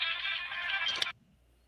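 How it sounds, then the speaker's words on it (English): An old-fashioned phone ringtone sounds alone in one brief, bright, warbling burst of about a second, then cuts off abruptly into near silence. "that ringtone is ancient"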